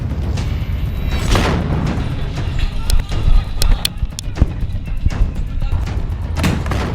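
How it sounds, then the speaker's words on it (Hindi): Israeli tank blown up by Hamas fighters in Gaza: a series of heavy booms and sharp blasts, some close and loud, over a rough rumbling background with scattered cracks. "और गाजा के अंदर इजराइल के टैंक को भी हमास उड़ा रहा है"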